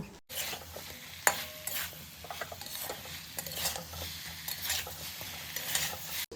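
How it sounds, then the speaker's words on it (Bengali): Fried potatoes and drumsticks being stirred into a sizzling spice paste in a pan, with scraping spoon strokes and light clinks over a quiet sizzle, close and fairly soft, without speech. "আলু আর সজনে ডাঁটা দেওয়ার পর মশলার সাথে ভালোভাবে মিশিয়ে নেব"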